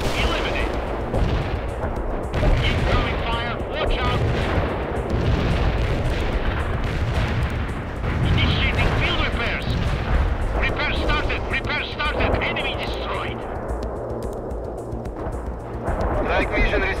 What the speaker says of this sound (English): Cluster bombs are out.